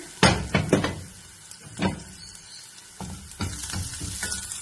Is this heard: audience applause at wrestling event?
no